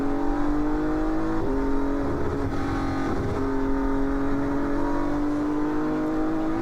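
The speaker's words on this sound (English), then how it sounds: "Grega Šimunović, the fastest driver across the line in the GT4 field from Petr Koukola and Andrej Makarovič." GT race cars run on the SlovakiaRing circuit during a GT Cup Series race, a loud continuous engine whine with shifting pitch as cars pass nearby.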